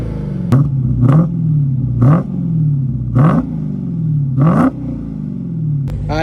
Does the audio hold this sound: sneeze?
no